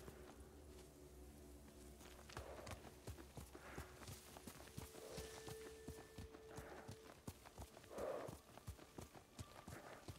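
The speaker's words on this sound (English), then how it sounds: "I love the breathing sounds they gave the horse." A horse in the video game Ghost of Tsushima trots with steady, rhythmic hoof clip-clops, fairly faint, with soft snorting breaths rising near the end.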